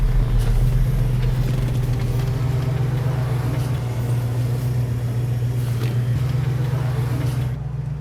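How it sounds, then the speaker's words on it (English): A 1970 Plymouth Road Runner racing a Dodge Coronet: a loud, deep, steady V8 engine drone close by, holding a constant pitch throughout and dipping slightly at the end. "so me and Royal are about to race this wonderful Coronet"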